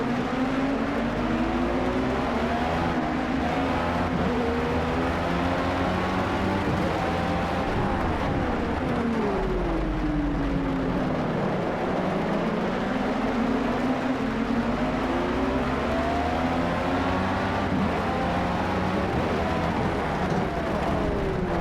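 Formula B open-wheel race cars in the Project CARS racing game at Donington, engines droning steadily and loudly with rising and falling pitch as cars shift, accelerate and jostle close alongside through the pack.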